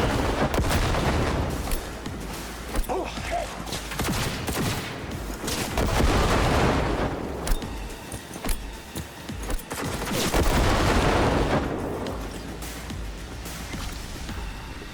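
Grenade explosions and gunfire in Cyberpunk 2077 combat: dense, rapid bursts of shots and repeated booming blasts, loud and continuous, with no talk.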